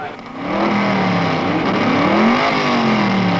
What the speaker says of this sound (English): they're calling the cars out onto the starting grid for the race of the day